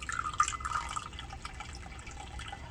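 Liquid, soap for a homemade oral hygiene rinse, pours into a measuring cup with a bright trickling fill that is strongest at the start and then settles into a steady faint flow.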